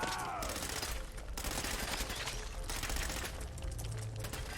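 Rapid gunfire in Fallout 4 crackles in dense bursts with short pauses between volleys, fairly close and harsh, over a steady game background.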